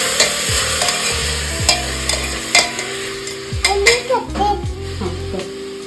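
Mutton pulao ingredients sauté in a hot pan as a metal spoon scrapes and clanks against it in repeated strokes, over a continuous sizzle, loud and close.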